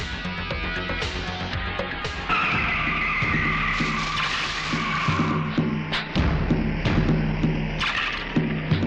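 Truck skidding to a stop in a dramatic scene: a long tire screech under loud engine rumble, with several thumps and bursts of noise, steady and close throughout.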